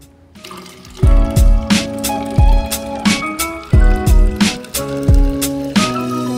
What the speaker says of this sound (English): Then we're going to pour some warm water.